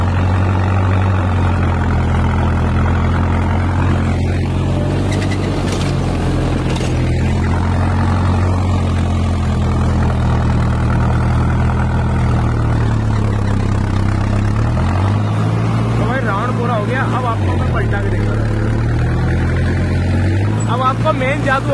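An Arjun Novo 605 tractor working a rotavator in hard soil, its engine droning loud and close at a steady medium throttle with slight load dips, with someone talking over it.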